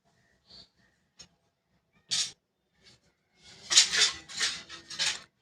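Scissors snipping through suit fabric during tailoring: a few sparse light snips, then a denser run of crisp cuts and rustling near the end, close and fairly quiet.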